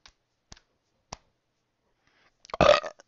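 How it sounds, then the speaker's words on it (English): A man lets out one loud, drawn-out burp near the end, after a few faint, sparse clicks. "Oh, he's burping too."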